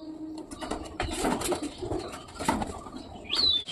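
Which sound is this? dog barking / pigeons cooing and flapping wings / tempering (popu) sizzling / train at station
pigeons cooing and flapping wings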